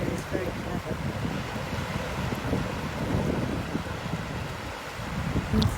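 Small waves lap and wash at Studland beach in the rain while wind buffets the microphone, producing a steady, low rushing roar.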